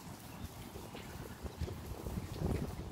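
Wind buffeting a microphone outdoors, a low uneven rumble of gusts that swells slightly toward the end, faint and continuous with no talk.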